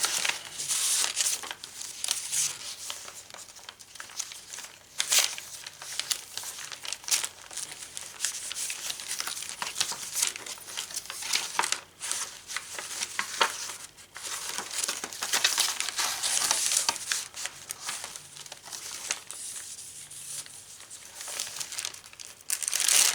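Paper bag for a handmade prayer journal crinkled and crumpled near and steadily for over twenty seconds, with sharp rustling bursts and brief pauses, no voices.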